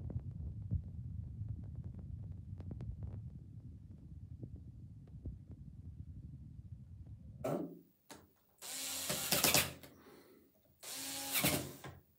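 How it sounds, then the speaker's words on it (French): Screws are driven back into the body of a Novolux floor mop: faint ticking and rattling handling at first, then several loud whirring bursts from a power driver, close by. "Il nous reste à remettre nos 4 vis ici qui sont là."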